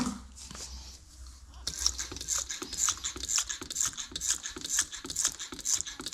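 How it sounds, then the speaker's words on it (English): A steady rapid hiss of a paint sprayer spraying diluted interior dressing onto car interior plastic in bursts, close and fairly loud, with a faint mechanical clicking underneath. "I'm going to spray all over the interior plastic."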